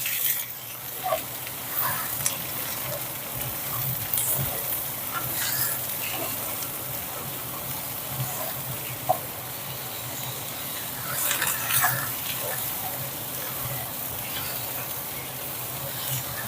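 Food sizzles steadily in a frying pan for a savoury courgette tart while a utensil stirs it, with intermittent scraping strokes standing out over the continuous hiss.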